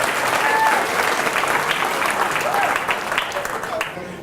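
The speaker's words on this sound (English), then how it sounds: "A huge round of applause for putting this together." An audience claps warmly for the builders of a 10,000-domino computer, a dense, even round of applause that holds steady and then tapers slightly toward the end, with faint voices mixed in.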